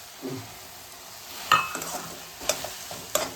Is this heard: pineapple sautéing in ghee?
yes